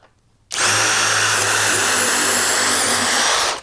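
A power drill fitted with a 1/4 inch bit bores into wood, starting abruptly and holding a loud, steady whining drone for about three seconds before cutting off, with no talking.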